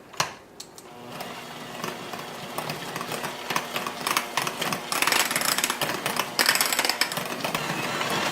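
Sour cream being stirred into a fluffy baked potato filling, a steady busy scraping and mashing rattle of utensil against bowl that starts after a brief knock and continues close and moderately loud, with no talking.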